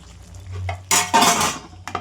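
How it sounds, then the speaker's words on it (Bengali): A lid set onto a cooking pot of chicken and potatoes, a quiet start followed by two bright metallic clanks and a short rattle, then one small clink. "ঢেকে দিলাম ঢাকনা দিয়ে"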